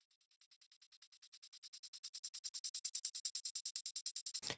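Shaker processed with Lossy Flutter and Transgate effects, sounding as a chopped, tightly gated series of bright rattling pulses in a rapid steady rhythm that build from faint to loud, alone, ending on a brief low thud.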